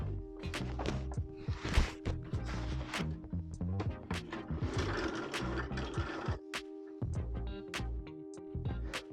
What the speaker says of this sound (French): je vais coudre vraiment tout le contour de la manche